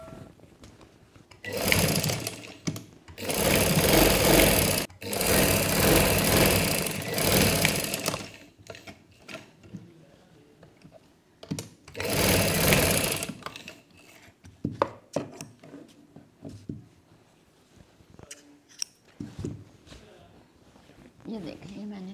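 A sewing machine stitching a baby girl's frock runs in several loud bursts, the longest lasting a few seconds, with quieter gaps between them where someone talks.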